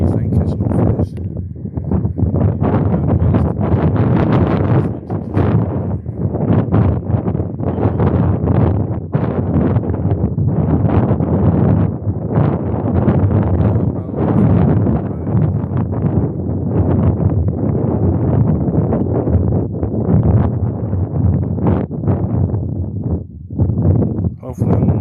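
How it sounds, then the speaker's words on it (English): Strong wind over a lake on a cold winter fishing day, buffeting the microphone in continuous loud gusts with rumbling low roar and brief lulls; someone talks throughout. "And that wind's blowing out the east too, so southeast."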